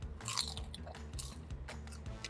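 Homemade sweet potato chips crunch loudly and close up as they are bitten and chewed, with several crisp bites in quick succession.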